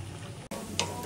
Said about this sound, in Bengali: এই যে আমাদের রসুন পেঁয়াজ বাগারের জন্য রেডি হয়ে গেছে।